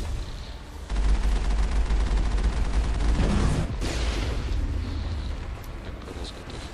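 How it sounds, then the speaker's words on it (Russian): Cannon fire and explosions from the Mass Effect video game burst in with a sudden heavy boom, then roll into a sustained loud, rumbling barrage that slowly thins toward the end. "Выстрел."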